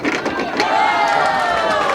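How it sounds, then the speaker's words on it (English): An audience at a bowling tournament of champions reacts with a loud, continuous burst of crowd noise and cheering voices that runs the whole moment. "he appreciates the applause"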